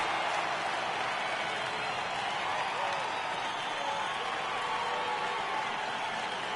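Crowd cheering in the MLB The Show 18 baseball video game, a Philadelphia Phillies franchise game, heard as a steady, dense stadium roar with no breaks throughout.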